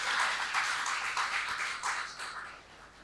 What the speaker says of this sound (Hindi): इनका हम दिल से भरपूर तालियों से स्वागत और अभिनंदन करते हैं।